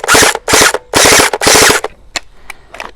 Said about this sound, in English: It's shooting so fast, it's busting the balls.